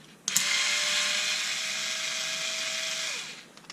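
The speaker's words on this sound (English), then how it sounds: "I've got this on the bottom torque setting, it's having no trouble taking those out." A Bosch Ixo cordless screwdriver on its lowest torque setting backs out screws, giving a click and then a steady, close, high-pitched motor whine for about three seconds before it winds down and stops.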